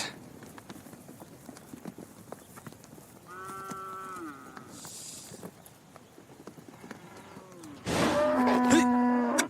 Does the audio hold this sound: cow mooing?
yes